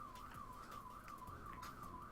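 A car alarm wails steadily outside during a Mario Kart Wii stream, its pitch sweeping up and down in a repeating rising-and-falling cycle, continuous and moderately faint behind a low background rumble.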